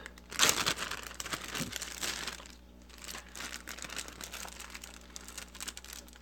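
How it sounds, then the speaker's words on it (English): Double-bagged Ziploc bags holding Subwassertang aquarium plant crinkle loudly up close, with a strong crackling burst at first and then lighter, steady rustling, with no voices. "But there's a big double bagged Ziploc bags."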